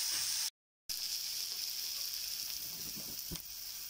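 Onions sautéing in a pan for a fish masala, a steady bright sizzle with soft crackles, broken by a brief silent gap near the start and a sharp clink or stir sound toward the end.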